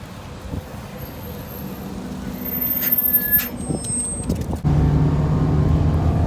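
City bus in Perth with a steady low engine rumble, brief beeps and a door or air-brake hiss, then a louder, steadier drone once the ride gets under way.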